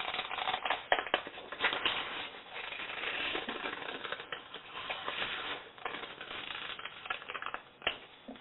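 Small scissors snip out a paper heart template, giving steady, close crisp cutting and rustling of paper across the whole stretch with no talking.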